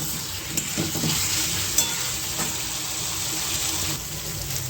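Cauliflower pakoras are stirred into spice masala in a hot pan, making a steady close sizzle with soft scraping stirs and a few light knocks throughout.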